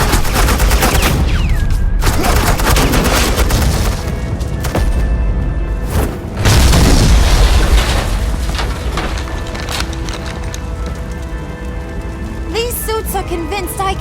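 Dense suppressing gunfire and booming explosions in the Batman: The Enemy Within video game, a loud continuous barrage that dips briefly and then surges again, with voices heard faintly under the din.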